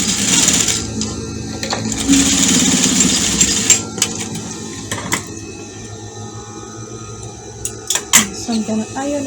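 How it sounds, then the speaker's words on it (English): A sewing machine stitches African-print fabric for a hair bonnet, running in a steady close whir for several seconds before stopping. Scattered clicks and mechanical taps follow as the machine is handled. "I'm going to stitch it very close to the fabric to close the hole"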